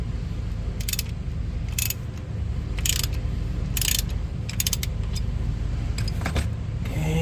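A ratchet loosening a car's oil pan drain bolt, several quick clicking bursts in an irregular rhythm over a steady low background hum, close by and without talk.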